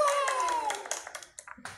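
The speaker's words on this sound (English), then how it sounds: "And we get the applause." A LEGO Spike Essential hub plays a short recorded applause effect, a brief burst of clapping and cheering that thins into a few scattered claps and fades out.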